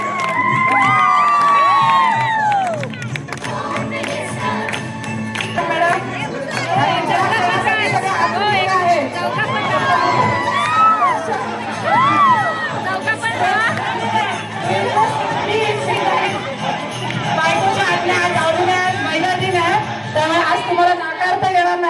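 A crowd of women and children at a school Women's Day event claps, cheers and shouts continuously, with whoops and lively chatter over the noise.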